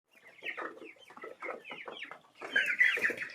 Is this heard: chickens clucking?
yes